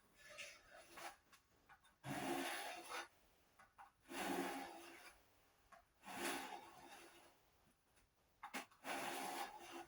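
Hand saw cutting through wood in repeated bursts of rasping strokes, pausing briefly between sets, close and fairly loud, during parquet-style marquetry assembly.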